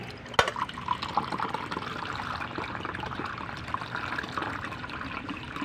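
Water pours steadily into a water dispenser with a gurgling, splashing flow, close and continuous after a sharp knock at the start.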